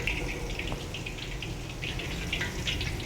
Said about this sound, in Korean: 맨기름에 튀기는 거예요